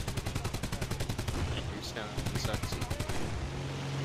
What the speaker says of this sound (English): apparently the MK-108s did get a new cannon sound.